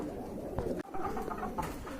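A pair of large fancy pigeons of the Mumbai breed coo softly at a pigeon farm, with low, rolling coos repeating over a quiet background.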